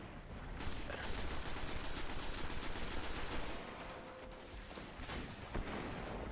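Rapid sniper and rifle gunfire in Destiny, a dense volley of sharp shots fired at a giant beetle-like enemy, sustained and fairly loud with no talking.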